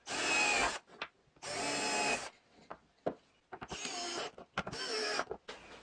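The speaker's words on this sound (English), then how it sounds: "I want to make sure I don't accidentally drill the pilot holes through the plywood" A drill bores pilot holes into plywood against a spacer in four whining bursts, separated by short pauses with light clicks and handling knocks.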